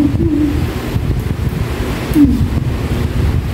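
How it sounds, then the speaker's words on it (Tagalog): Steady, rushing wind buffets the microphone with a broad roar, surf-like and constant throughout, with no voices. "maraming hangin"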